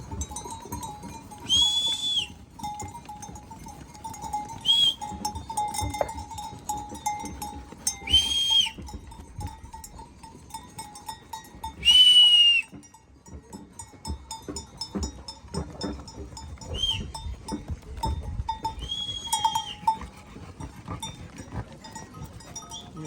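Sheep in a moving flock herded down from high pasture, with several bleats and whistle-like calls spread across the scene over a steady rustling background of animals and footsteps at middle distance.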